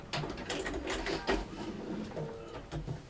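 A sewing machine back stitches, with quiet rapid mechanical clatter in short uneven bursts heard close up at low volume.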